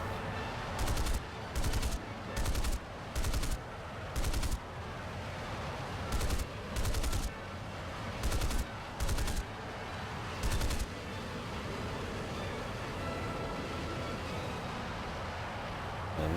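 Guns of a Canberra bomber in the War Thunder game fire in roughly nine short, evenly spaced loud bursts over a steady engine drone, then fall silent while the drone continues.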